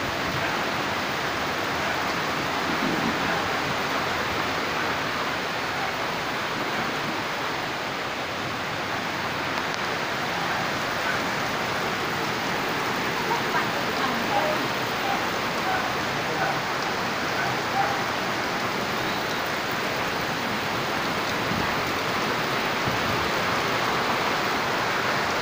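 Heavy rain pours steadily during a September storm, a dense, loud, even hiss of falling water that continues for the whole stretch with no letup.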